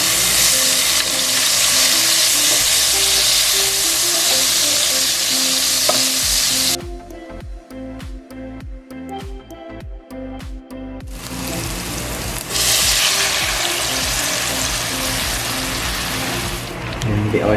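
Chicken for adobo fries in a pan with a loud, hissing sizzle that drops away for a few seconds in the middle, where clinking and scraping take over, then comes back just as strong.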